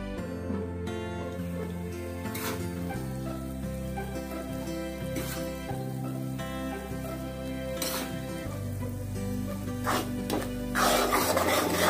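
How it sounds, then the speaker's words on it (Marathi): Wheat flour being roasted in ghee in a kadai while it is stirred. Soft rasping and scraping sounds of stirring repeat over a low background, with a few sharper clinks and no talking. "थोडं थोडं करून मी सगळं पीठ भाजून घेणार आहे।"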